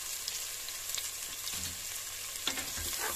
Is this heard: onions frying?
yes